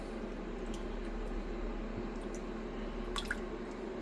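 General Hydroponics liquid nutrient being measured into a container of water for a plant feed, with soft faint drips and a small liquid splash near the end over a steady low background hum.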